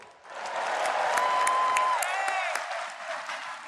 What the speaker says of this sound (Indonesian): Tepuk tangan untuk Bu Siti.